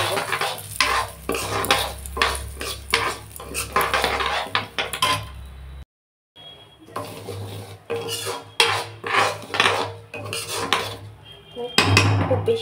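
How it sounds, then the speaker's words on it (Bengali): Mung dal dry-fried in a pan and stirred hard with a metal utensil: rapid, close scraping and clattering against the pan, a brief silent break, then more vigorous stirring over a low sizzle. "আর দিয়ে দিলাম পরিমাণ মতো মুগের ডাল। এটা একটু ভালো করে ভেজে নেব।"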